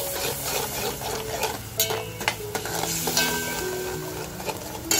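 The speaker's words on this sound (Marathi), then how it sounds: "तर बघा आपला मसाला असा छान परतवून झालाय. जे आपण सूप काढलेलं आहे ते थोडंसं टाकून घेते." Masala fries in a pan as mutton soup is poured in, producing a steady sizzle with scraping stirs and occasional utensil knocks against the pan, close and moderately loud.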